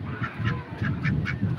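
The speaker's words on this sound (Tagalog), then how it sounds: "Yan ang aming itik!" Domestic ducks quacking close by in a repeated series of short, nasal calls about every quarter second, over a steady low background rumble.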